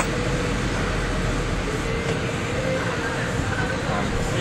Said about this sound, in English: Touristic train